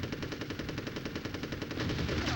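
Rapid, evenly spaced machine gun fire from an enemy gunner in the N64 game Army Men Sarge's Heroes, a loud continuous burst of closely packed shots lasting the full couple of seconds.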